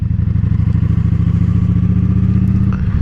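Motorcycle engine held under steady throttle while the rider leans through a corner, a loud, continuous close-up drone with a pulsing low rumble that holds level for about three seconds, with a faint clatter near the end.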